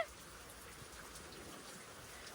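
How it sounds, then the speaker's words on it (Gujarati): Steady, faint patter of rain falling on a surface, an even hiss of drops with no voices. "તો આપણો આવો કંઈક વરસાદ શરૂ છે"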